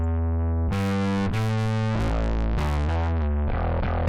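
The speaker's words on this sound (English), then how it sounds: "It's just a smoother, less farty distortion." Heavily clipped bass notes through the Big Clipper plugin with a smooth but buzzy distortion, played alone in a steady riff of held tones, loud and close.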